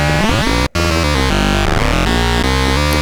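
An Arturia MatrixBrute synthesizer plays a loud, sustained buzzy tone with square-wave audio-rate modulation, its harmonics shifting and wobbling throughout, broken by a split-second dropout near the start.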